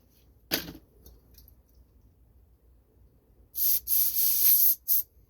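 A sharp spray burst near the start, then after a quiet pause a longer series of close hissing aerosol cleaner sprays into the carburetor holes of a John Deere TRS 21 snowblower, one continuous and a short final puff.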